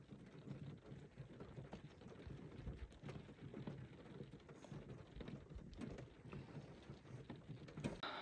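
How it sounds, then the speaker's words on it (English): Steady, soft rainfall patters continuously on a surface at a campsite during a rainstorm, a gentle broadband hiss with scattered drop taps and no voices. "Just listen to the rain."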